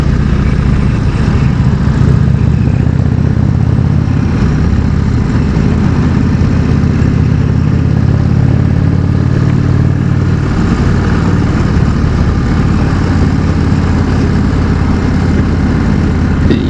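An Indian Chieftain motorcycle's engine runs loud and steady throughout, its low rumble shifting slightly in pitch as it moves down through the gears with no talk over it.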